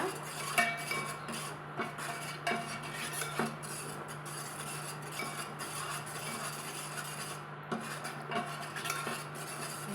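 A flour and milk mixture for aadi paal is stirred continuously in a pot, giving a steady close scraping and rubbing with light utensil clinks against the metal, rhythmic and unbroken for the whole stretch.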